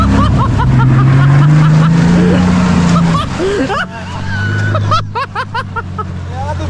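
A 4x4 off-road vehicle engine revs hard at full throttle during a driving lesson in Kowary, its rising drone loud and close for about three seconds, then settling into a lower, steady hum with splashy bursts. An instructor shouts over it.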